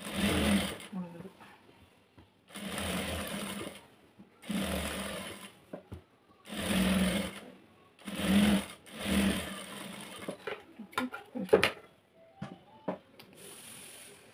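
Sewing machine stitching piping onto a blouse, its motor running in several short bursts of a few seconds each with pauses between, and a voice speaking at moments around the stitching.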